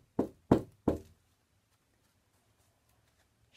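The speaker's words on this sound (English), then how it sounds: "Suddenly, she heard a knock at her door." Three sharp knocks at a door in quick succession, close and clear, followed by quiet.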